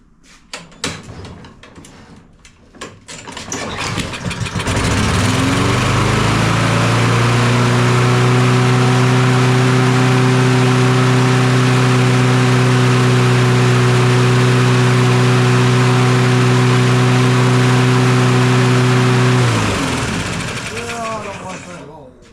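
A LawnBoy push mower with a Kohler engine is pulled and started after some knocking, then runs loud and steady at high RPM with a buzzing tone for about fifteen seconds before winding down and stopping.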